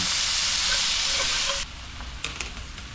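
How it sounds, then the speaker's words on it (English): Chanterelle mushrooms and venison cooking down in a pan sizzle loudly and evenly before the sound drops away abruptly to a quieter hiss, followed by a few sharp clicks and taps near the end. "I'm gonna let all that cook all the way down"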